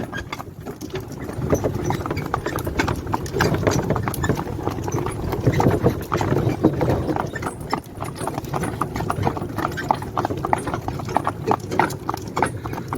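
Draft horses at work, their hooves clip-clopping in a steady walking rhythm close by, with a faint rumble of harness and movement underneath and no clear talk.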